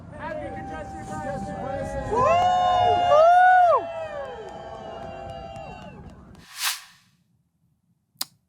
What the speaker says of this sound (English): that's a crowd of people cheering a toll that they have to pay now